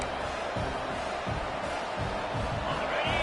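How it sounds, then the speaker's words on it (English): A football stadium crowd at an NCAA game roars as the defense tries to get a stop, a broad, sustained wash of distant cheering heard under a commentator's voice. "And this crowd coming to life here, trying to help the defense get a stop"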